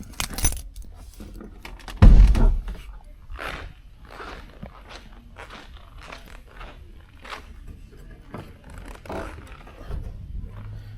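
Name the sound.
car keys jangling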